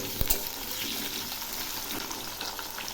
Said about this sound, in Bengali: এই আলু আর গাজরগুলো একটু ভেজে নেব।